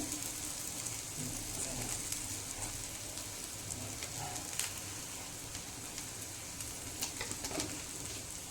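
Food frying in a pan while cumin seeds go in, a steady close sizzle with crackle that runs the whole time, with faint sounds in the background.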